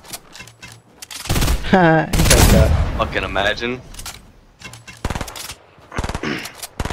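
Rapid automatic gunfire and bursts of shots from a Fortnite match, loud and close, with players talking and shouting excitedly over the firing.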